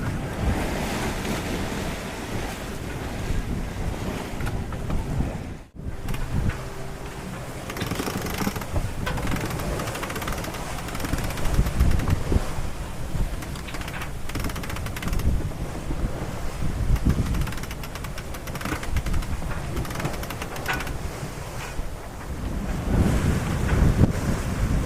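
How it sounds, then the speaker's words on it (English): Strong wind of around 30 knots roars across the microphone while waves surge and slap against a sailboat under reefed sails leaving Gibraltar, a loud, continuous rush with gusting swells and no talk. "Seeing 30 knots of wind, we've reefed the sails down."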